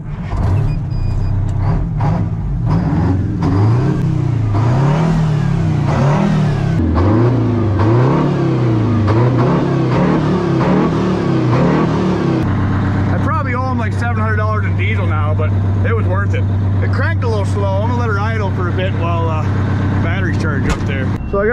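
A 1957 Hayes HD truck's big engine revs repeatedly in rising and falling surges, then settles into a loud steady drone with a hissing whine, heard up close while people talk over it.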